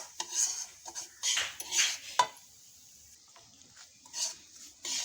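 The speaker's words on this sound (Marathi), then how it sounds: "आपण रवा भाजतोय।" Coarse semolina (rava) roasts in a pan while a spoon scrapes and stirs it, giving soft, irregular scratchy strokes with quiet gaps, close and faint.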